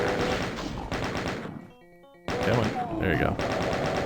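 Rapid chaingun fire in a Doom map, loud bursts before and after a short gap filled with lighter electronic game effects, with a brief spoken remark over it.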